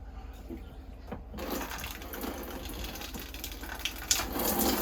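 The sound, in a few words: water flowing into an RV toilet bowl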